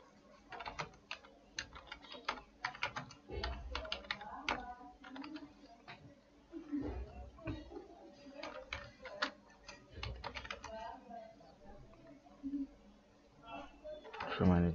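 Keystrokes on a computer keyboard clatter in quick irregular bursts while a computer virtual hard disk is set up, with someone speaking Bangla over the tapping throughout.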